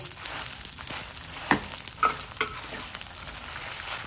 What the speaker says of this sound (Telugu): చక్కగా వేగిపోయి గలగలాడుతున్నాయి కదా మిరపకాయలు